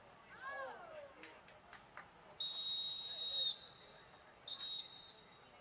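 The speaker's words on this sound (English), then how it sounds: "Whistle there by the referee." A referee blows a sharp whistle at a boys high school soccer match, one long blast followed by a shorter one, heard clearly over crowd murmur and a commentator talking.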